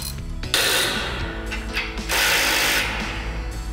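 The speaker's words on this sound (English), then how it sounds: "Go back in with a ratchet and make sure you can get them snugged up." Hand ratchet with an inch-and-an-eighth socket snugging large bolts, a loud, steady run of rapid mechanical pawl clicks with brief pauses between strokes, close and alone.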